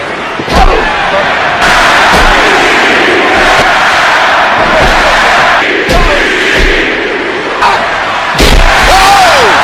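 A huge arena crowd at the Royal Rumble in Indianapolis roars continuously and very loudly, punctuated by repeated heavy ring slams and booming impacts, with shouts and whoops rising from the mass of fans.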